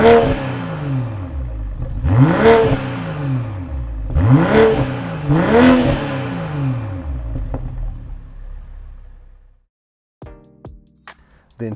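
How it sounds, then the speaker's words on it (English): A 2021 BMW M440i convertible's exhaust barks through three sharp revs in quick succession, each rising and falling loudly before the engine drops off into quiet, followed by a few brief mechanical clicks. "let's go ahead and hear how this vehicle sounds"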